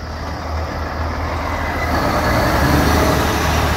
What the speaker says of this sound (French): Encore un camion.